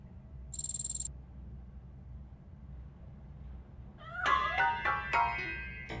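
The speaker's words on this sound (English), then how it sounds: "That cat must be hiding inside." A cat meows several times in the video game RoboCop: Rogue City. The close, clear calls come near the end, after a quiet stretch with low ambience and a brief high electronic tone.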